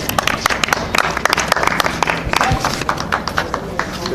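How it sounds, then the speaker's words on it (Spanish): A crowd claps at a football cup final awards ceremony in Mexico City, in a dense, crackling burst of applause that holds steady throughout, with a few voices faintly mixed in. "Y un gran aplauso, por favor."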